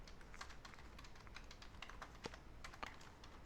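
Irregular keystrokes tapped on a computer keyboard while entering values during an online economics lecture, a quick uneven patter that is quiet and close, with no one talking.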